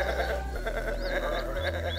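A little bug-like sheep creature in the point-and-click game Botanicula gives a soft, wavering bleat over a low hum of game ambience.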